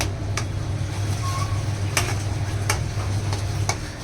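Stirring the filling in a pan while cooking a Gauri naivedya thali, with a steady low sizzle and occasional light scrapes and clicks of the spoon against the pan.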